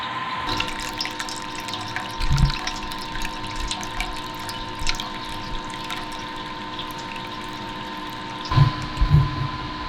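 Continuous watery rushing with a steady hum as liquid drains through an open valve and pipe during a homebrew beer brew day, with a few low thumps near the start and end.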